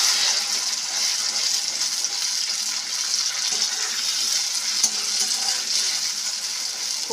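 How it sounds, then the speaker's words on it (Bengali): Boiled, ground beans being stir-fried until dry for bharta, heard as a dense, steady hiss of frying with soft stirring scrapes, close up and even in level, with no voices. "খুব ভালোভাবে নাড়াচাড়া করে একদম শুকনো শুকনো করে শিমটা ভর্তাটা বানিয়ে নেব।"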